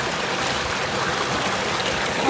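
Water pours steadily from a village motor pump outlet, a continuous broadband gushing and splashing that stays close and even throughout, with no voices over it.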